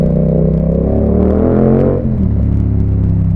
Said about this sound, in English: that kind of like awesome exhaust sound